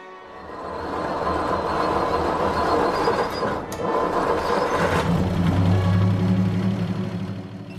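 A 1960 Ford F100 pickup engine runs steadily and loudly for the whole stretch, its low rumble thickening midway with a deeper idle tone, recorded close by outdoors during restoration work.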